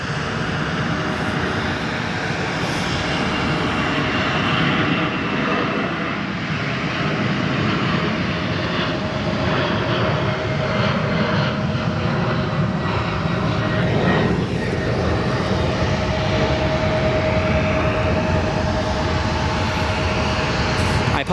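A Boeing 747 departs O'Hare Airport with a loud, steady jet engine roar that holds strong and continuous at a distance, with a faint whining tone running through it.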